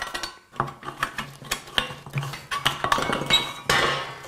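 Hand snips cutting metal drywall profiles, a series of sharp metallic snips and clinks that repeat irregularly at close range, with no voices.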